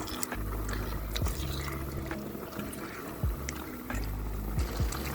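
Starchy pasta water is poured into a pan of cooked pasta, giving a wet, bubbling splash with squelching stirs and soft thuds close by, steady over several seconds.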